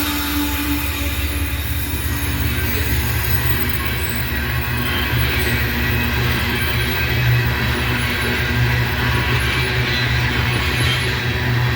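A freight train with distributed power locomotives rolls steadily past, giving a continuous loud rumble of wheels and cars with faint high squeals of wheels against the rails throughout.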